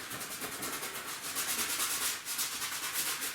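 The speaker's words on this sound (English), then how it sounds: "Sometimes I'm sort of scrubbing it in there." A paintbrush scrubs paint onto a canvas in a Schoharie landscape painting, making close, steady rhythmic rubbing strokes that repeat without pause.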